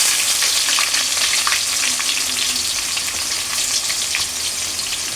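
Onions sizzling and frying in hot oil with spices in a pan for chicken khichuri, a steady dense crackle with faint stirring scrapes throughout, close and alone with no talk.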